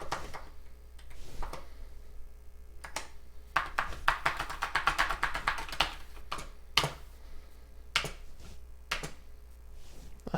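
Keys clacking on a TI-99/4A home computer keyboard, a run of irregular close taps and presses that quicken into a dense flurry mid-way, with no voices.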